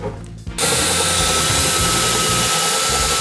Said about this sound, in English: All drilled and sunk.